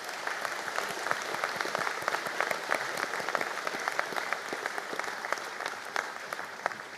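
Sustained applause from a large seated audience honouring graduates of the Polymer Processing Programme at a conferring ceremony, with dense, steady clapping that holds at an even level throughout.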